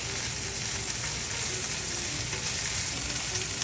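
Garlic sizzling steadily in a pan while being stirred, a dense continuous frying hiss with faint scraping underneath, close and even throughout, no talking.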